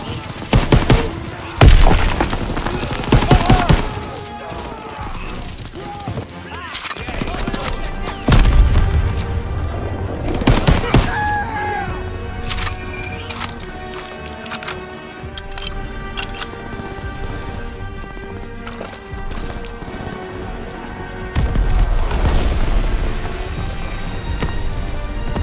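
Call of Duty: WWII combat on PS4, with bursts of rapid gunfire and heavy booming explosions including a grenade blast, loud and close, broken by quieter stretches and layered over tonal game music.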